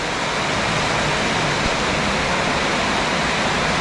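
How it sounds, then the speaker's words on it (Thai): Heavy rain pours down at Tat Mok waterfall on a forest nature trail, a loud, unbroken hiss and roar of falling water that holds steady throughout. "เราก็ออกไปไม่ได้นะครับอันตรายฝนตก"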